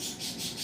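A spoon scraping and swirling through a thick flour-based sauce in a pot, a short soft rubbing sound with a gentle back-and-forth rhythm, close and alone.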